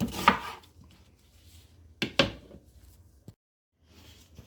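A knife cuts an onion into small pieces for a Cameroonian roasted fish pepper dip, with a few sharp, close cutting-board strikes spaced irregularly and quieter handling sounds in between.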